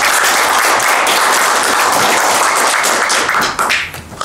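An audience at a Kazakh event showcasing modern national clothing breaks into loud, sustained applause that fills the room, then thins and trails off near the end with a few scattered claps.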